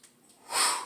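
A sharp nasal inhale taken while lowering into a pushup, one short close breath that swells and fades within a second.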